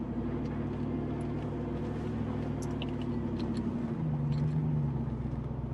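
A truck crawls off-road in low gear over rocks on a steep section of Wild Horse Road in Utah, a steady low engine drone with a rising strain near the end, heard from inside the cab.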